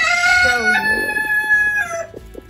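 Backyard chickens cluck and squawk near a broody hen in a dog crate; loud, drawn-out calls fade into short, rhythmic clucks, with no one speaking over them.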